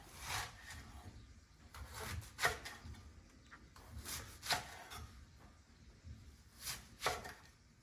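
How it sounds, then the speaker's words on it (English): A knife cuts a head of radicchio into wedges on a cutting board: a handful of crisp slicing crunches and thuds spaced irregularly, close and fairly quiet, with no talking. "Then after you cut it in half, cut them into wedges about 3/4 to an inch thick."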